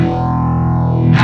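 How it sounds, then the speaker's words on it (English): A Les Paul electric guitar played through overdrive and a phaser pedal, a sustained distorted chord with a slowly sweeping whooshing tone, loud and alone, ending with a fresh pick attack. "I've got a little bit of drive going on, and my phaser pedal, which is sort of key for this song."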